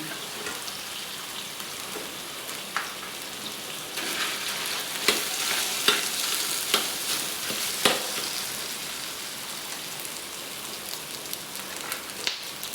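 Rice for garlic fried rice sizzles steadily in a hot pan, stirred with scraping, clattering utensil strokes at irregular intervals over a continuous frying hiss.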